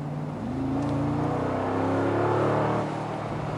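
A Mercedes-AMG G63 Edition 1 with a 9-speed gearbox drives through the city, its engine a low steady hum that swells briefly and then settles, heard from inside the cabin.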